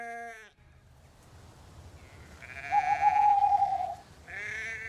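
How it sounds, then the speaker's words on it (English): Sheep bleating on a pastoral grazing land, a clear bleat at the start, then a quieter stretch, and a louder, sustained bleat near the end over low background rumble. "I really must keep an eye on our sheep."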